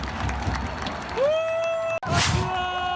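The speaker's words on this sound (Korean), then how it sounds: "팬들도 선수들에게 박수를 아낌없이 보내줍니다." FC Seoul fans in a stadium after a 1-1 away draw against Suwon Samsung, with a steady wash of applause and cheering from a large crowd, a whistle-like tone rising through it and a brief loud burst near the end.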